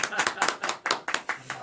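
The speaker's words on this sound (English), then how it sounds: "Round of applause." A small, sparse round of clapping from a few people at a live-streamed show, distinct uneven hand claps in quick bursts, close and fairly loud with a voice briefly present.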